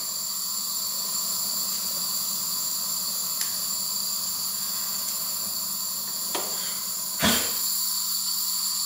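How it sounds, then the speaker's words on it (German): Refrigerant gas escaping from a pierced pipe stub on a Liebherr EFL 4655 chest freezer burns as a steady, loud hissing flame, with a few faint clicks and a brief bump near the end. "Das Kältemittel, was hier drin ist, brennt."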